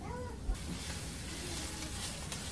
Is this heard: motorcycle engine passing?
no